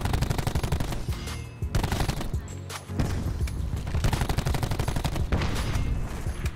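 Rapid automatic gunfire from aim practice in Call of Duty Black Ops 4, loud and nearly continuous bursts with a couple of brief pauses, no talking over it.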